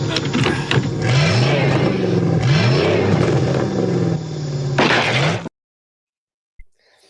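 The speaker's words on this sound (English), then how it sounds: "The sound of that car revving" A car engine revs loudly and steadily for about five seconds with rising and falling pitch, then cuts off abruptly, followed by a single faint knock.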